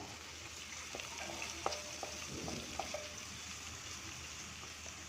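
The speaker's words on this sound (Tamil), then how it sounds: "இது வதங்கிட்டுருக்கு" Chopped onion sautéing in a pan for Kaundampalayam chicken curry, a soft continuous sizzle with occasional light stirring clinks, quiet and steady with no talk.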